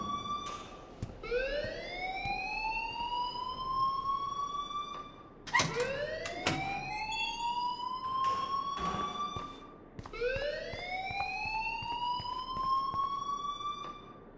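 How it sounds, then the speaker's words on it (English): A school alarm in the video game Life is Strange sounds three times, each a rising, siren-like electronic wail that swells and holds before cutting off, with faint clatter between the blasts. "please turn off that alarm since that's your job"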